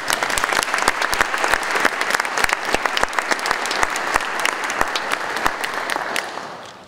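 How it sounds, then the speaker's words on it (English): Sustained audience applause at a Hall of Fame induction speech, dense steady clapping from a large crowd that fills the hall and fades slightly toward the end, with no talking over it. "So I want to give a round of applause to my friends and family members that are here tonight."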